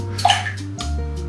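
Liquor is poured into a glass for a champagne cocktail, a short close splash and gurgle of liquid lasting about a second.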